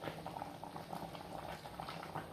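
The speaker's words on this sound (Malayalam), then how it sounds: "അപ്പത്തെ നമ്മുടെ കറി നല്ലപോലെ തെളിച്ച് തിളച്ചിട്ടുണ്ട്" Kilimeen fish curry made with coconut milk bubbles steadily in a pot on a gas stove, a soft, continuous simmering patter heard close up with no talking.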